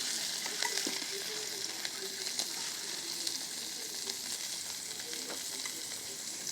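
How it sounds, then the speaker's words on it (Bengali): Potatoes fry in a pan in a home kitchen with a steady close sizzle throughout, with occasional soft stirring clicks and no talk. "এখন আমি আলু একটু ভাজে নেব"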